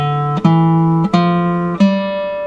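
Guitar picks single clean notes one after another, stepping through part of the A natural minor scale, each note ringing clearly and close before the next is plucked.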